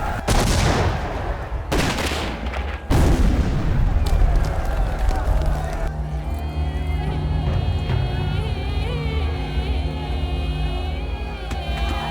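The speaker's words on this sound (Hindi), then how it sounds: "दोनों तरफ से गोलीबारी जारी है।" Gunfire from both sides in an action film battle scene: several sharp shots and bursts early on, then a steady rumbling din with a tonal music-like layer, and a voice speaking over parts.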